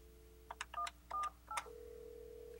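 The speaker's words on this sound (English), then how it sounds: "hit the transfer key and then dial the extension that I'd like to transfer it to" Keypad tones from an Alcatel-Lucent 8068s desk phone on an OXO Connect system as an extension is dialed: several short DTMF beeps in quick succession, then a steady tone, heard close and clean.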